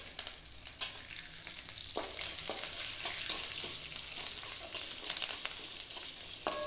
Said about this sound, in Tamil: கடுகு பொரியுது பாருங்கள்